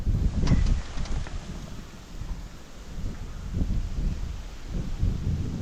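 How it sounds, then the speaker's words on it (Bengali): Strong gusting wind blows across an outdoor picnic spot in hot weather, a steady low roar rising and falling with buffeting bursts over several seconds, no voices present. "দেখো কেমন ঝড় উঠে গেছে বলতে বলতে"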